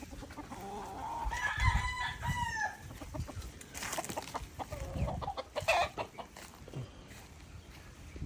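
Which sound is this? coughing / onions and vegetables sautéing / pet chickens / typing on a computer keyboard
pet chickens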